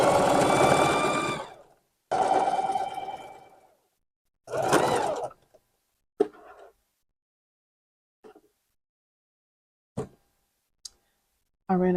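A sewing machine runs in short bursts on fleece for a Santa hat, three loud close runs of whirring stitching separated by silences, followed by scattered faint clicks and taps.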